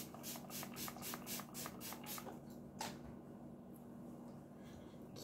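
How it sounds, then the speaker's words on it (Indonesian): A can of Studio Tropic face primer spray is sprayed close by in a series of quick, soft hissing bursts, followed by a single later puff. The sound is quiet and there is no talking. "Kita semprotin."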